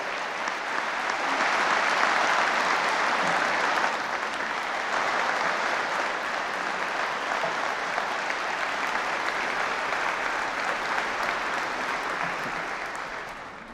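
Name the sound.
audience round of applause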